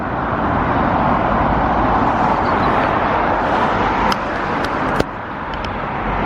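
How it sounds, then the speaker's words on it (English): Steady, loud roar of busy traffic on the Hertford bypass, heard from close beside the road with a continuous wash of passing cars and no break, plus a couple of sharp brief knocks near the end. "I ended up on this Hertford bypass for a couple of 100 metres, which as you can see is very busy"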